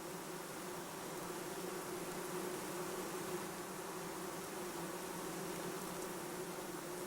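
Honeybees hum inside their hive, a dense, continuous buzz of many wings at an even level throughout, close and steady with no talk.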